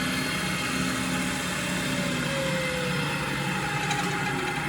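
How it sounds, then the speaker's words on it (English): A newly fitted motor spins the fresh bearings of a Super-MiniLathe, giving a steady mechanical whir and drone that runs evenly and close by. Near the end a faint tone slides slowly in pitch as the shaft speed changes. "this is the first time the bearings are spinning at all"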